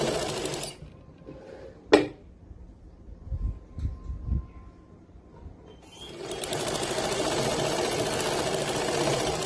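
A sewing machine stitches lace onto a suit: a loud, fast, steady mechanical whirr starts after a quieter stretch of handling bumps and one sharp click, and runs to the end close by.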